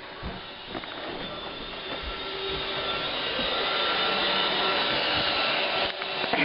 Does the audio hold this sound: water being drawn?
no